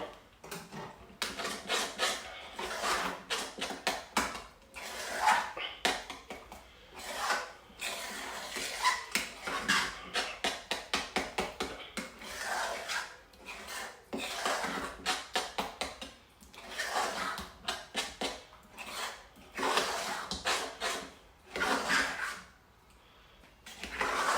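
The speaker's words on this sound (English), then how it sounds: "No, I'll give that another stir." A spoon scrapes and knocks around a pot of Jamaican cornmeal porridge, with repeated rhythmic bursts of stirring, close and moderately loud, pausing briefly between rounds.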